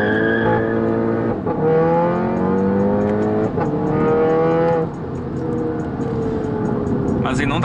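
A 2016 Audi TT engine held at about 3,000 rpm gives a steady, loud droning rev with rising harmonics and a couple of brief dips, close up while someone talks over it.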